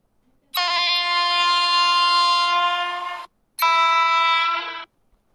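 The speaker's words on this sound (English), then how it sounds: "Guys, I can see two trains are coming." Two long, loud blasts of an Indian train horn sound alone and close, the first running nearly three seconds and the second shorter after a brief gap.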